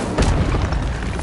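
A fire spell cast in Hogwarts Legacy: a loud, close whooshing boom with a burst of noise spanning the whole range, followed by a sustained rumbling roar lasting just over a second.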